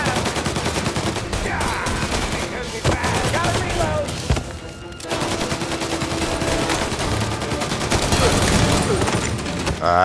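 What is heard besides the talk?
gunfire in a gunfight, from the video game Mafia Definitive Edition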